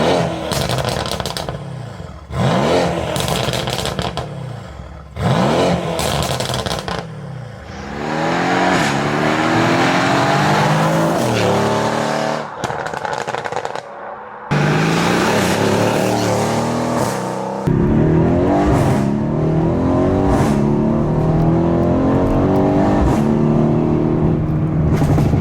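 A Stage 2 MSL-tuned Mercedes C63 AMG coupe V8 making 637 bhp, revved hard in a run of loud, close blips and sustained high-rpm pulls with harsh crackles between bursts, the engine rising and falling repeatedly with no talking over it.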